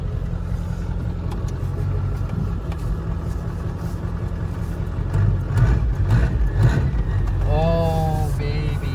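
A Ford 7.3 Powerstroke diesel with its exhaust stack routed out through the hood rumbles loudly at idle, a steady low clatter that swells and revs briefly near the end.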